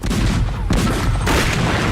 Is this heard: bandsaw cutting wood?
no